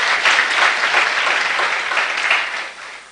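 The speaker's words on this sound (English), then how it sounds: "Now that you have clapped" An audience at an academic careers fair applauds in a steady, dense wash of clapping that holds strong for a few seconds before tapering off toward the end, with no voices over it.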